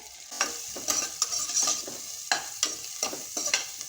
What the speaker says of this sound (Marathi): हलकंसं आपण बटरमध्ये परतून घेऊया